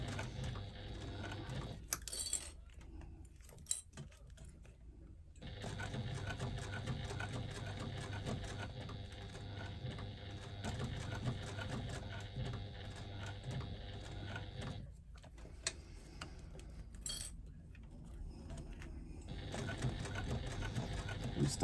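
A sewing machine stitches an Uno wristlet in runs of steady mechanical whirring, pausing briefly twice before resuming, close and moderately loud.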